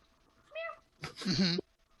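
A person imitates a cat's meow in two short vocal bursts, the second longer and louder, the voice close and alone with no other talk.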